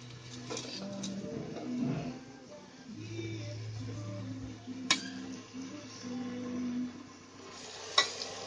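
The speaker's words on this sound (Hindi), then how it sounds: "अब मैं इस दाल को मसाले में डालूँगी।" Leftover dal goes into a pan of frying masala and gets stirred, giving a soft continuous sizzle with scraping spoon strokes and a couple of sharp metallic clinks against the pan.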